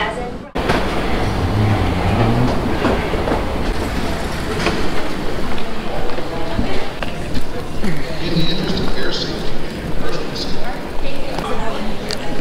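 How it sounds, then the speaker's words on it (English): Airport people-mover train at Atlanta's airport riding between concourses, a steady rumbling ride with rattling and clacking noise throughout, with people talking in the background. "we are going to ride a train to go to gate F"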